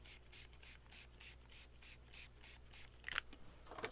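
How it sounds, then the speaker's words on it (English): Quick repeated spritzes from a spray bottle misting liquid over paper craft, about a dozen short even hisses close by, followed by a few faint paper rustles and taps. "All right, so I'm going to spray this all over."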